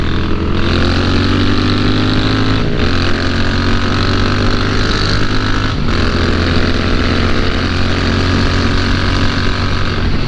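A Moto Guzzi V7 motorcycle engine drones steadily and loudly throughout while riding near a Ducati, with a continuous low rumble and two brief dips suggesting gear changes.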